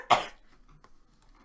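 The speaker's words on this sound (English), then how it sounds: "I have to cough." A single short, sharp cough right at the start, then near silence with faint small noises.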